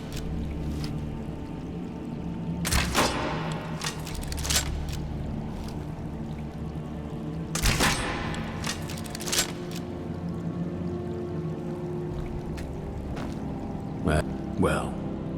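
Video game gun fires several sharp, loud shots spaced a few seconds apart, with a quick double burst near the end, over a low ambient hum and voices talking in the background.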